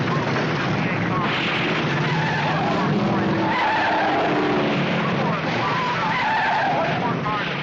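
Vintage race cars roar around a track at a 1969 race, engines droning and tires skidding continuously, with an announcer talking excitedly over the loud, steady din.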